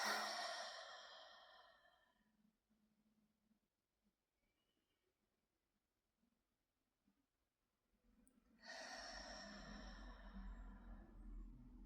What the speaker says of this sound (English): And then do the breathing, the inhale and the exhale.